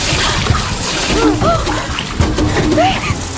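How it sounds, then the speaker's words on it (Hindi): Water splashes and sloshes continuously as it leaks in during a dramatic movie scene, with frantic voices over the churning noise. "हम डूबने वाले हैं, पानी लीक हो रहा है"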